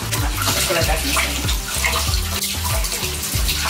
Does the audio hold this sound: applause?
no